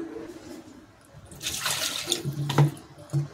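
Water poured from a height into a cooking pot of large crabs on a gas stove, a rushing splashing pour building up in the middle and carrying on, with a few clinks near the end.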